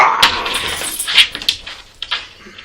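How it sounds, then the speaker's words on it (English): A pet dog gives a few high, thin whimpers and whines, close and fairly loud, mixed with small clicking and jingling sounds, maybe tags or a collar, and no talking. "This is my dog"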